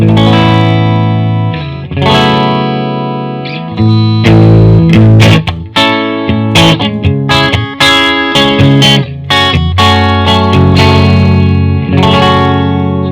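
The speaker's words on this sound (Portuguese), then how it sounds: "esse é o som da Strato, bem característica." A Fender Stratocaster electric guitar plays bright, shimmering chords and picked notes with a chorus-like effect, loud and up close with no talking.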